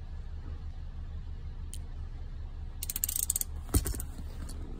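A ratchet with an M10 triple-square socket works on the seat track bolts of a Volkswagen Touareg: after a quiet stretch, a quick burst of close clicking comes near the end, with a sharper metallic knock just after it.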